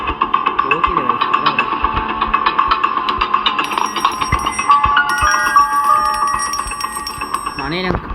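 A bell rung inside the Granny horror video game, giving bright metallic ringing tones over background game noise, with a voice heard alongside.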